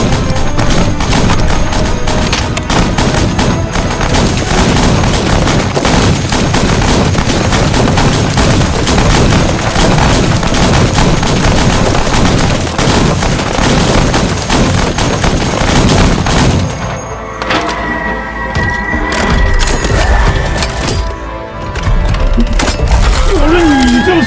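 Rapid bursts of gunfire ring out in a staged battle scene, dense and loud for most of the stretch before thinning out, with hoof-like clatter mixed in.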